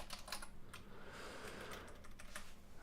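Fingers type on a computer keyboard in quick, soft clusters of key clicks, faint and close, pausing briefly between short bursts.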